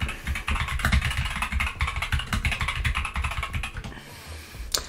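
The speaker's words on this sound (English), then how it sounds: "Got one of these mechanical keyboards, and yeah, it's so noisy" Fast, uneven typing on a noisy mechanical keyboard: dense, close clacking keystrokes in bursts for several seconds, thinning out near the end, with no voices.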